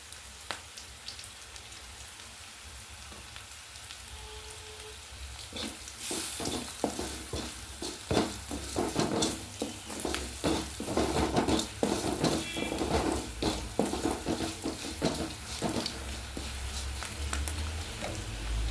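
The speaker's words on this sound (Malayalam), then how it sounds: "വെളുത്തുള്ളി ഇഞ്ചിയൊക്കെ മൂത്ത് വരുന്നുണ്ട്." Garlic and ginger fry in a pan for a homemade papaya pickle, a steady close sizzle with crackling bursts that grow louder and busier partway through, overlaid by scraping stirring sounds and no talk.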